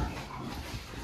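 A bully breed dog whimpers softly at a kennel, a brief low whine over steady background noise with no clear barks.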